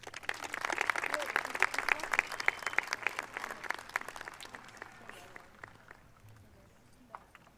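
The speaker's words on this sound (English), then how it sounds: "Please join me in recognizing their commitment with a round of applause." An audience at a school promotion ceremony applauds dual immersion students with lively, dense clapping that peaks early, then gradually thins and fades to scattered claps.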